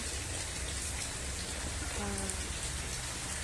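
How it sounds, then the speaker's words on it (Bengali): Heavy rain pours down in a dense, unbroken hiss of drops drumming on surfaces, loud and steady throughout, with a faint brief voice-like tone partway through. "দেখেন কত বৃষ্টি পড়তেছে, কত বৃষ্টি পড়তেছে"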